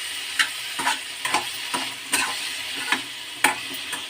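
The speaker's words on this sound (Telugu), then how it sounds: "ఇలా కలుపుతూ మెత్తగా మగ్గేలాగా చూసుకుందామండి" A tomato mixture with tamarind cooks in oil while a spoon scrapes and stirs it, giving a series of sharp, regular strokes roughly every half second over a soft sizzle.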